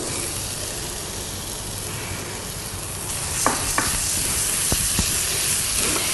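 Vegetables sauté in hot oil for a vegetarian curry, giving a steady broad sizzle, with a few sharp scraping clicks of stirring in the second half, close and alone.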